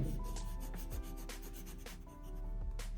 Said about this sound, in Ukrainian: Коли олівець працює не тоненьким своїм грифелем, а ось така йде розтяжка кольорова.